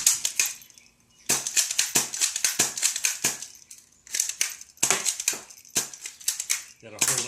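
Pump-action BB gun fired rapidly at close range, quick bursts of sharp cracking snaps and clicks in rapid succession with brief pauses between volleys.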